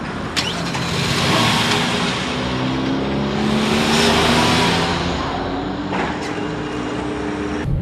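A car engine drones steadily and loudly, with rising engine tones suggesting acceleration, road noise continuous throughout.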